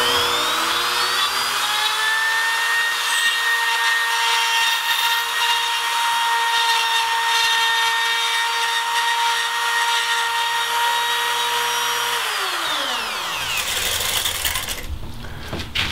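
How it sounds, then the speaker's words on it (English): Wood router cutting a spiral into a turned wooden piece on a spiral-cutting jig, a loud sustained high-pitched whine with rough cutting noise that winds down near the end, followed by clattering handling sounds. "Pull the router back,"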